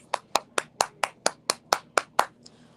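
About ten sharp, evenly spaced hand claps from a single person, close and crisp, each with a short decay, ending abruptly with no talk.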